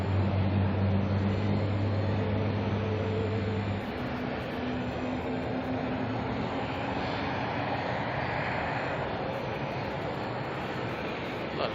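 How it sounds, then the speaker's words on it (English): A Boeing 787 airliner makes a long derated takeoff roll at Auckland Airport, a steady loud broadband engine roar filling the whole stretch, with a low engine hum that shifts partway through. "Maximising on that D-rated takeoff of the 787 there."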